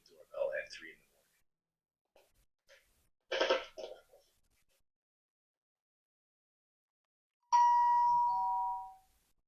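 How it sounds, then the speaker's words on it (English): Brief indistinct voices come first, then a single electronic doorbell chime at a house front door rings out clearly at night and sustains for about two seconds before cutting off. "ringing the doorbell at 3 in the morning"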